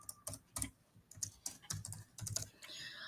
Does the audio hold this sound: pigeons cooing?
no